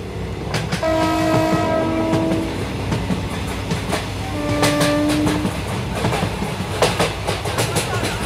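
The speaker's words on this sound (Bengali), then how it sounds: "সরে যান, সরে যান, ট্রেন আসছে" A train approaches with two long, loud horn blasts over a steady rumbling, clattering roll of wheels, the horn sounding near and dominant.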